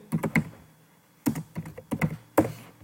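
Keys on a computer keyboard are tapped in short bursts while a heading is typed into a spreadsheet, quiet close clicks in clusters of three or four separated by brief pauses.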